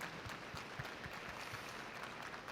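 Audience applause at the close of a 2023 medical decentralization forum, a faint, distant, steady patter of many hands with scattered individual claps.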